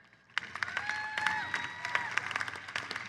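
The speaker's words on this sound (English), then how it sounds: "So give yourselves a round of applause" Graduates at a 2017 Issaquah High School graduation ceremony applaud with dense clapping that swells after a quiet start, with cheering and whistles over the crowd noise.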